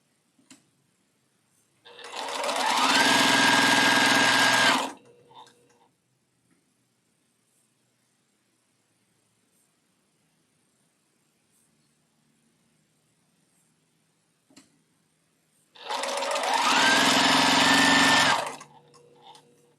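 A sewing machine stitches a quilt block in two separate bursts of about three seconds each, whirring steadily, with near silence and faint rustling of fabric handling between them.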